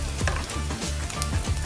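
Spices with red chilli, salt and turmeric sizzle in hot oil for a chicken kachori filling, a close, steady crackle with light stirring scrapes and no talk.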